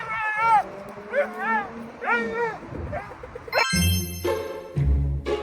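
A dog gives a series of yelping, whining barks at a bus driver, close and rising in pitch, followed by loud engine and traffic rumble.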